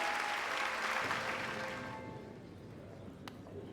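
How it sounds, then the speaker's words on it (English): A crowd applauds in Hollow Knight during the Grimm boss fight, a dense wash of clapping that starts loud and gradually thins and fades, with no speech over it. "Hear how the crowd adores you."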